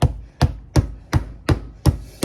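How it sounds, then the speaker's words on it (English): Steak being pounded with a meat cuber, seven sharp, evenly spaced thuds against a board, loud and close, with no voices. "you just pound it until it's the cube steak consistency you like"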